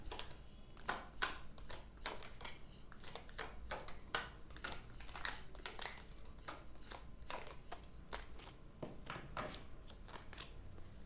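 Tarot cards are shuffled and drawn by hand: soft, crisp clicks and riffling snaps arrive in irregular quick bursts, quiet and close, with no talking.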